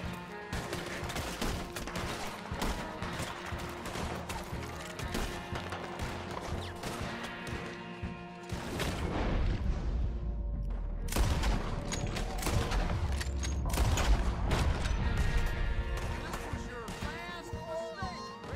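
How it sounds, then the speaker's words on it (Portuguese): Gunfire rings out in the Western video game Red Dead Redemption 2, with repeated sharp shots and heavier booming bursts over about eighteen seconds, mixed with in-game sounds and voices. "Tem mais alguém atirando?"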